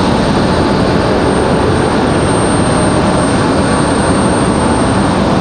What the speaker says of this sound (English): Here's our Salt Lake City flight